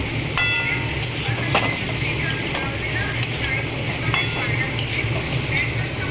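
Egg curry with hot water added fries and is stirred in a pan, a continuous sizzle broken by sharp, regular spatula scrapes and taps against the metal, close and fairly loud.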